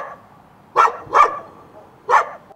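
A dog barks three times in a private house's yard after a deadly fire, loud sharp barks spaced irregularly with quiet between, no talk.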